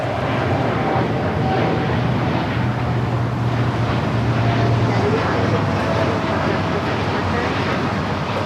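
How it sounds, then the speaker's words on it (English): Airbus A380 airliner at LAX, a steady broadband engine roar with low droning hum, continuous and fairly loud with wind-like rush throughout. "A380"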